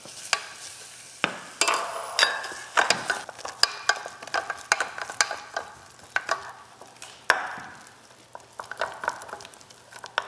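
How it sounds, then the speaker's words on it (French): Banana cream mixture gets stirred off the heat with many close, irregular scrapes and taps of a utensil against the pan, while a faint sizzle lingers underneath. "je vais sortir du feu pour finir de bien mélanger la banane"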